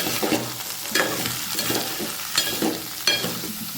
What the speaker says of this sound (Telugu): ఇవన్నీ ఇక్కడ ఆయిల్లో ఫ్రై చేసుకోవాలి